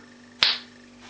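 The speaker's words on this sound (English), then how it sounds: "I want to make a sound with my nose, especially with my left side of my nose" A single short, sharp nasal plop made with the left nostril, heard close against a quiet room with no talking.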